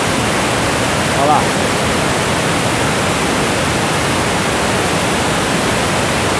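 Cachoeira da Chave waterfall in Votorantim, with water pouring from the Itupararanga dam gates, gives a steady, close, full-band roar throughout, with a brief voice heard over it.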